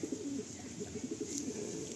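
A male pigeon coos softly in a bird loft, a low rolling, repeated cooing close by but faint, with steady background hum.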